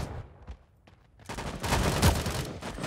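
Gunfire in the Sausage Man battle royale game: a few faint scattered shots, then a dense burst of rapid fire that grows loud and sustained toward the end, with no voices.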